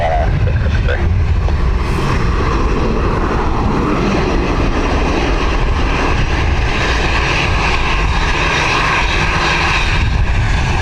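A fixed-wing airliner comes in to land at Dublin Airport in a gusty crosswind, its engines making a loud, steady roar that fills the whole stretch without a break.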